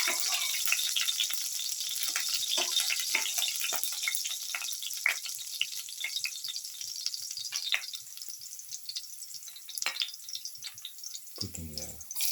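Garlic sizzles steadily in a hot pan for a raita recipe, a continuous crackling fry with scattered pops and small stirring clicks, close and fairly quiet.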